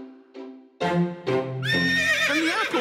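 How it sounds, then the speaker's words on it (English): A cartoon apple in a children's animated show neighs like a horse, a rising harmonic whinny that builds over short bursts into a loud, sustained trill, alone with no talk. "And the apple just neighed like a horse."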